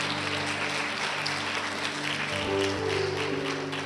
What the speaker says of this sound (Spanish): Ahí va otro aplauso.